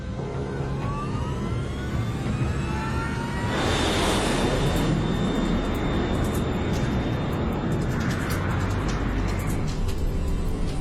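An LAM Mozambique airliner takes off from Maputo, a steady roar of jet engines swelling in power and rushing, continuous and loud throughout with no talk.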